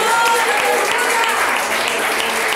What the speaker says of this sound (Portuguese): Você pode aplaudir mais alegre em nome do Senhor.